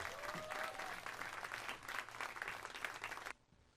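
A concert audience applauds two singers coming onto the stage at a memorial concert, dense steady clapping for over three seconds before it cuts off abruptly near the end.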